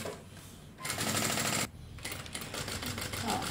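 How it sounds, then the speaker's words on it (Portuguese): A sewing machine stitches a crossbody strap for a bag with a shoulder pad in two close, rapid bursts of needle chatter separated by a short pause. The second run is more uneven and ends in a few stuttering stops. "faz uma costurinha bem retinha até o final"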